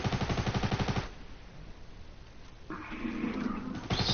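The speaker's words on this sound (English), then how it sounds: "Somebody shooting at me." Rapid automatic gunfire in a video game shooter, a close, dense burst at first, then a quieter stretch of muffled activity, with another burst at the end.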